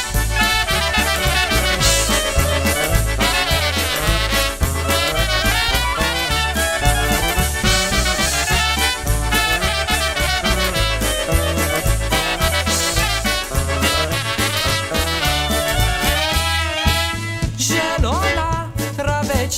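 Recorded polka music for the song Zielona Traweczka, with accordion leading over a bouncing oom-pah bass and rhythm, loud and continuous throughout.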